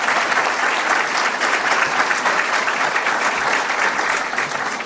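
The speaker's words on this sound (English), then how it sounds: "Give them a round of applause" Sustained audience applause fills a City Club of Chicago event room, a dense, steady roar of many hands clapping at even loudness from start to finish with no voices standing out.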